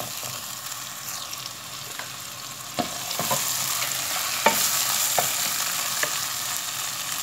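Onions or a base mixture sizzle steadily in a hot pan while a utensil stirs and scrapes now and then, close and fairly quiet, with no talk.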